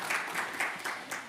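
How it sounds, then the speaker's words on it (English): An audience applauds an event team at a health ideas conference, a steady wash of clapping with a few louder swells throughout, heard on its own without talk. "if you'll join me in a round of applause for them"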